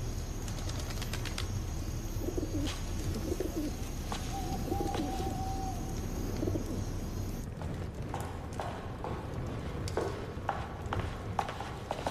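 A pigeon or dove coos indoors, the low calls repeating over a steady background hum, with clattering hoof-like knocks joining later.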